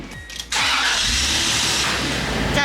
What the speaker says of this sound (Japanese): エンジン入れちゃってください